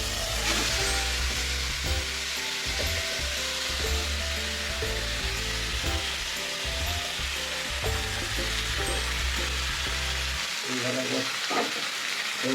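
Food fries in a kadai with a loud, continuous close sizzle, joined by a humming tone that cuts out near the end, no talking.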